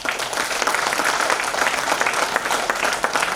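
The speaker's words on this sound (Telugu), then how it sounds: "మీ అందరికి ఒకసారి బిగినింగ్ క్లాప్స్ అండి" Loud, dense clapping from an audience at a Casmolife business meeting, many hands close together in a steady unbroken burst.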